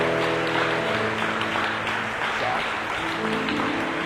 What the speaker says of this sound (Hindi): आइए जोरदार तालियां यीशु के लिए बजाएं।